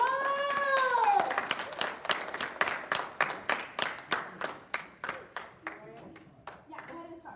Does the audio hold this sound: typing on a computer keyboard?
no